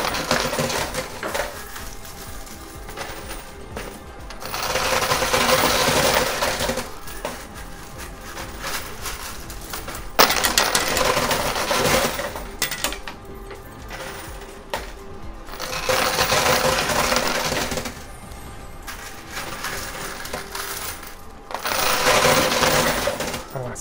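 Quarters clatter in repeated bursts inside a high limit coin pusher machine with a massive tower, metallic jingling swelling and fading in waves over a steady mechanical hum, loud and close.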